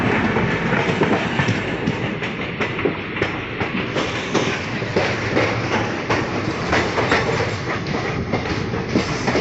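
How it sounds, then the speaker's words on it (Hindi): The Delhi Kotdwar Express, hauled by a WAP5 electric locomotive, rolls past at close range. Loud, dense rail noise carries a continuous rumble with rapid clickety-clack of wheels over the track joints. "दिल्ली कोटद्वार एक्सप्रेस WAP5 के साथ जा रही है"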